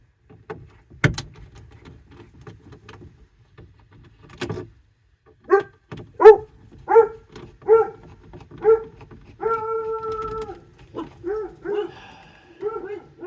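Several dogs greet a mail carrier with a series of barks and yelps in irregular bursts, some close and loud, along with a few sharp knocks and a brief whine-like tone.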